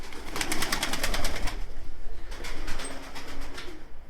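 Soft cooing from racing pigeons in a loft with repeated bird chirps and rustling, steady and moderately close, fading slightly toward the end.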